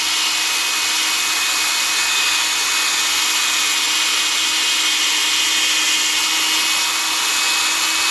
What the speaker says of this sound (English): Light pressure, let the disc do the work.